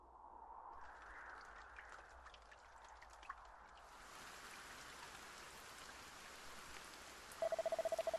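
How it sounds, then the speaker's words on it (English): Rainfall in Dragon Quest I HD-2D Remake, a soft, even hiss of drops that swells fuller midway, with rapid beeping text-box blips near the end and a low musical bed beneath. "Lo, the rain doth fall, and soon enough the sun too shall fade"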